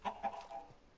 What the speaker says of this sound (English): I can hear you, Mr. Chicken